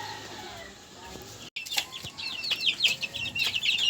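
Farmyard chickens clucking and calling close by, with a brief gap before the hens grow louder and busier.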